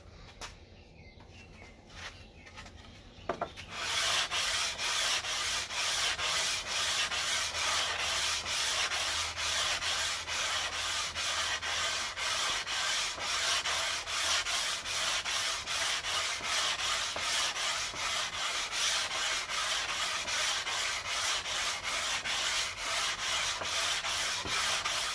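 Steady, continuous scraping of sandpaper on a wooden guitar fingerboard being radiused by hand, a quiet start giving way to loud, even rubbing strokes that run without pause.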